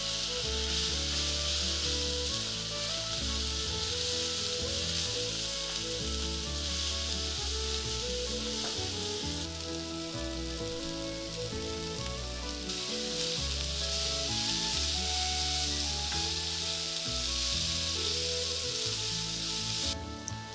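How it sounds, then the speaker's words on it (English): Spices frying with onion and garlic in a pan for paneer bhurji, a loud continuous sizzle and crackle that stays close and steady throughout, with no talking. "So you cook it for a few minutes so the spices blend nicely with the onion and garlic."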